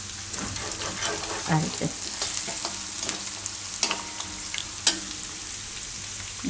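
Asafoetida and spices sizzle in hot oil for a Gujarati madhpudo vegetable dish, a constant close frying hiss with occasional stirring clicks. Someone speaks briefly over it.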